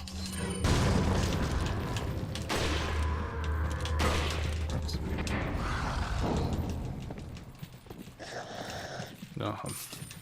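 A rocket launcher explosion in Resident Evil 4 lands as a heavy boom with a rumbling tail, surrounded by dense game noise and clattering, with a voice talking over it.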